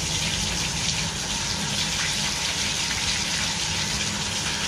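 Hot water gushes steadily from a bathtub tap, a loud continuous hissing rush that stays even from start to finish.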